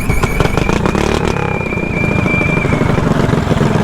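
A mini bike engine, a Premier Titan, revs up loud and close, with sputtering, rising throttle blips over a steady rough idle and a faint whine running through the middle.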